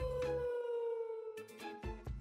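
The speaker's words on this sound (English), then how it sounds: "Is that an air alarm or something? Air siren?" A long, wavering air raid siren in the video game Minecraft sustains one steady droning pitch for about a second and a half, then breaks off as clattering footsteps and game noises take over.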